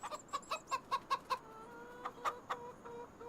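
Chickens in Farming Simulator 25 give a quick run of clucks in a steady rhythm, then a few scattered calls, close and fairly soft over quiet background.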